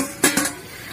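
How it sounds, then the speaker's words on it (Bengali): A metal lid is lifted off a cooking pot of fish curry, making two quick clinks of metal on metal close by and then a short fading ring. "এখন ঢাকনাটা তুলে দেখবো"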